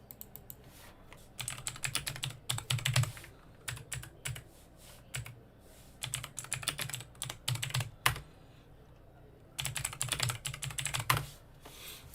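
Typing on a computer keyboard comes in irregular bursts of quick, crisp clicks with short pauses between them, close and fairly loud, with no voices.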